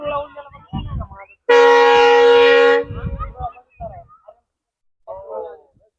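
A loud, sustained train horn blares for about a second as a slowing train passes on the new Ahmednagar–Beed–Parli railway line in India, with people talking before and after it.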